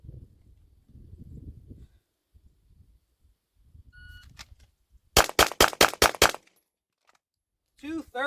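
A Glock pistol fires six loud, sharp shots in a quick, even string during a 15-yard bill drill, after a stretch of quieter low talk and handling noise.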